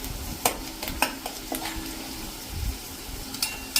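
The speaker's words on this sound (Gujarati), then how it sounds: "અને એને પણ આપણે આ રીતે મિક્સ કરીને થોડું કૂક થવા દેશું." Green garlic stirred and cooking in a pan for a mung bean curry, with a steady soft sizzle and several sharp scrapes and taps of a utensil against the pan, close by.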